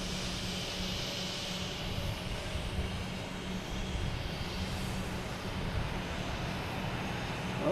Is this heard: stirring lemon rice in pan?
no